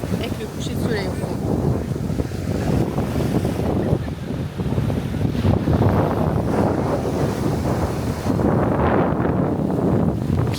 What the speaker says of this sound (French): Clairement avec le vent, ça va être compliqué sans le micro